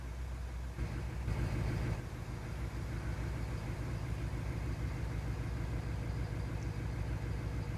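A car engine idling in the video game Twisted, with a steady low rumbling drone that swells slightly near the start and then holds even and continuous, with no talk.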